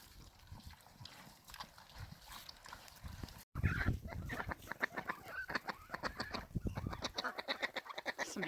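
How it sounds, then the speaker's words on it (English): A flock of contented chickens feeding on salad and vegetable scraps clucks and chatters up close. Busy rhythmic pecking and clucking grows livelier partway through. "Some happy birds having some salad for lunch."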